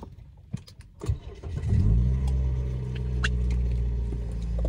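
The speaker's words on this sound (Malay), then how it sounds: "Jadi kita akan start kereta." A car engine is cranked and fires up after a battery change, with a few clicks and knocks before it, then settles into a steady, loud, close idle rumble.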